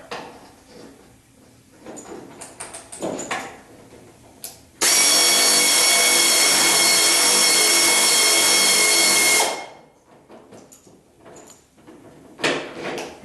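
A power tool spins out the second lower bolt on the rear crash bumper of a 1976 Corvette, a loud continuous whir lasting about five seconds, framed by clanks and handling noises of metal parts.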